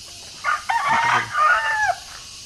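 A farm rooster crows once in a full, clear cock-a-doodle-doo lasting about a second and a half, rising then trailing off, close by against a quiet outdoor background with a faint cluck before it.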